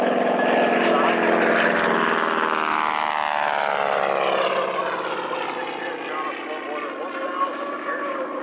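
An SNJ-5 propeller aircraft flies by on the left, its engine drone loud and rising then sliding down in pitch as it passes, fading slightly toward the end.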